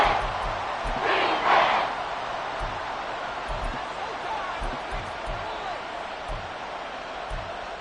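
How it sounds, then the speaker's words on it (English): Football stadium crowd in the Madden video game, a loud continuous roar of massed voices swelling briefly near the start, with scattered low thumps underneath. "This crowd turning up the decibel level."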